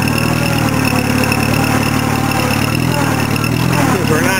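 An Allis-Chalmers tractor of about 30 PTO horsepower runs with a steady, loud mid-low engine drone throughout, with someone talking over it.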